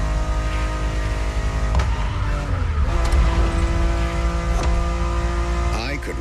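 A Ferrari supercar engine in the video game The Crew Motorfest, heard from the cabin: a loud, steady droning engine note for six seconds, its pitch shifting and climbing near the end, with no talk over it.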